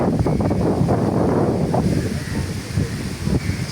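Gusty wind on a beach under a darkening, cloudy sky rushes continuously against the microphone, a steady roaring buffet with a faint wash of surf beneath, and no voices.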